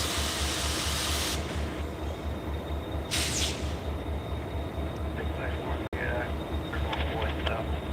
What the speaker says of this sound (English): our outbound is now beginning his trek out of town, going out the north end